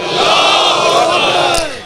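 A large religious gathering roars a loud, sustained shouted response in unison, a dense wall of massed voices swelling and holding for nearly two seconds before tapering.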